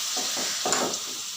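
Salted, seasoned chicken fries in a pan with a brief, close, steady sizzle, and a couple of stirring scrapes rise above the hiss.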